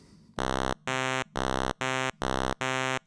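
A Behringer 2-XM synthesizer plays a narrow pulse wave at 10% width, six short buzzy, bright notes in a steady on-off rhythm, loud and clear with faint background hiss between them.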